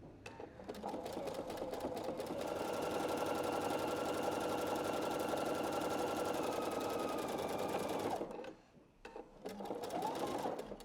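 A sewing machine runs steadily at close range, stitching a binding seam on knit fabric with a brief back stitch. The motor hums evenly for about eight seconds, stops, then briefly starts again.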